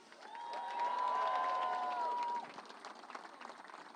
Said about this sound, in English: He normally gets a louder cheer than that.